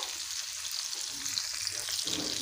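Potato pieces seasoned with salt and turmeric frying in oil for a Bengali aloo potol kosha, giving a steady, close sizzle with faint stirring scrapes.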